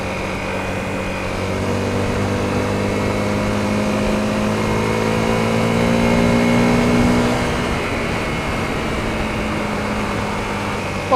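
A Honda CRF250L motorcycle with a modified airbox accelerates onto a street, its engine droning and rising in pitch steadily, close and fairly loud with a small easing off near the end.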